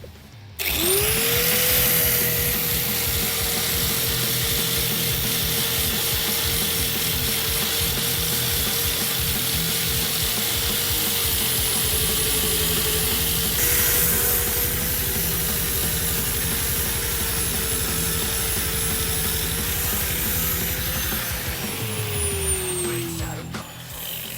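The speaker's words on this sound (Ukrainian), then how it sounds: "Перше, що ми робимо, це щищуємо булгаркою з ліпістковим кругом." An angle grinder fitted with a coarse flap disc strips rust from a grain truck's body outdoors in a yard, a loud, close, sustained high whine with gritty grinding, starting abruptly, a brief dip midway, then winding down at the end.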